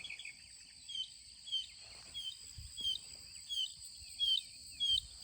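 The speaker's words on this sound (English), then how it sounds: "the one mockingbird that I continue to hear" A mockingbird sings a series of short, repeated high chirping phrases at a steady rhythm against a constant insect hum, moderately distant.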